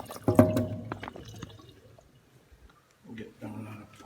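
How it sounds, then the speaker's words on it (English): Carrot, pumpkin and Irish potato being washed in water: a couple of close sloshing splashes and drips, one strong burst early and a softer one near the end, with quiet gaps between. "I'm gonna wash them already. Just have them in some water"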